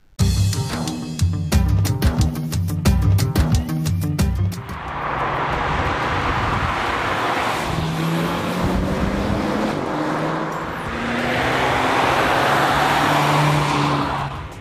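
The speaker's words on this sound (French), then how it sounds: "la sonorité de l'échappement spécifique à ce modèle n'est que peu présente" A Seat Ibiza Cupra drives at low revs in fairly heavy traffic, its engine and exhaust giving a steady, subdued hum under loud road and wind rush, with a brief rattling passage at the start.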